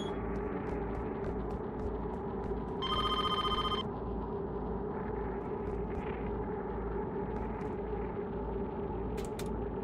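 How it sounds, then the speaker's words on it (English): A telephone bell rings in the horror video game DEADEND, one loud rapid ringing burst lasting about a second over a constant heavy droning ambience, with faint clicks scattered around it and no voices. "Your phone is ringing."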